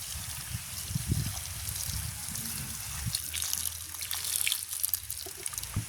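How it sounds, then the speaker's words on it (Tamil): Boiling water trickles and splashes steadily for several seconds, close and fairly quiet, poured into a pot of noodles. "நல்லா கொதி தண்ணி விட வேணும்"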